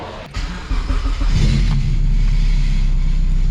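A K-swapped front-wheel-drive car engine revs on a dyno, rising from a low idle into a loud, steady sustained drone, run through the gears with the chassis held still.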